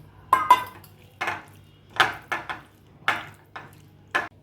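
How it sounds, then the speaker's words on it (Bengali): Fish pieces being marinated with chilli powder and cornflour in a bowl, giving a series of close, crisp clinks and scrapes of utensil against the bowl in irregular bursts, with no talking. "এবার মাছগুলোকে ম্যারিনেট করে নিচ্ছি।"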